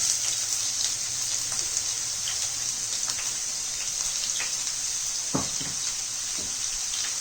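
Onions added to hot oil for spicy dum aloo, giving a steady close hissing sizzle with faint crackles and a few soft knocks, alone and without talk.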